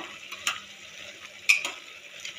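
Mutton drumstick curry masala sizzling and being stirred in a pan, a steady soft frying hiss with a few sharp scraping stir strokes, close and moderately quiet, with no talking.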